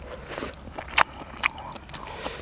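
Someone eats crispy cuttlefish salad with hot dogs, with close, crisp bites and crunches at irregular intervals over soft mouth noises.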